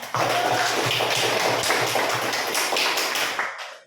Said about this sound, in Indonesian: Kita kasih aplaus dulu untuk semuanya.